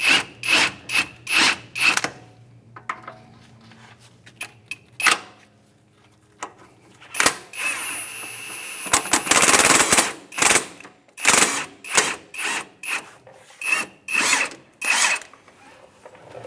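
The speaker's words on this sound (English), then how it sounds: "just use the impact, see if we can back that bolt out on its own" An impact wrench backing out the top strut bolt on a 2007-2013 Acura MDX, firing in loud rapid hammering bursts of varying length separated by short gaps, with a longer dense run in the middle.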